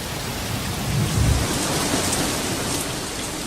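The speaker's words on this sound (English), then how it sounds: "The downpour seems to dampen animal spirits." Heavy rain pours down in a constant dense hiss, with a deep thunder rumble rolling through early on.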